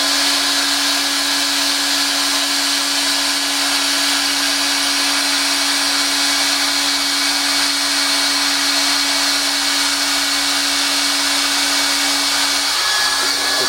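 A handheld plastic welder runs with a steady, loud hot-air hiss and a constant whine while tacking plastic together, unbroken and alone with no talk, shifting slightly in tone near the end.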